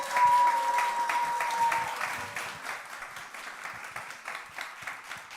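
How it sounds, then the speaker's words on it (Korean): A church congregation applauds to welcome a pastor at a teachers' seminar, with a steady wash of clapping and a sustained tone in the first couple of seconds. "우리 이정현 목사님 나오실 때 세상에 들어보지 못한 우리와 같은 박수로 환영하겠습니다."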